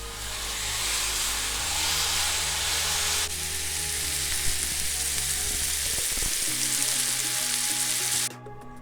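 Steak sizzles loudly in a pan in a dense, close hiss that settles slightly after a few seconds, with faint clatter near the middle and a sudden drop at the end.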